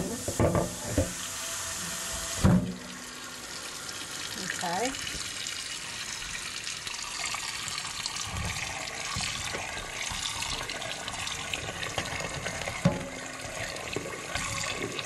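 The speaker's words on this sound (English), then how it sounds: "I got my hot water running" Hot water runs steadily from a tap, a continuous rushing hiss with occasional clunks and clatter, and a brief spoken word near the start.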